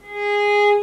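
A single sustained bowed viola note, an A tuned to 415 Hz, steady and clear with rich harmonics, swelling slightly then easing off, played alone.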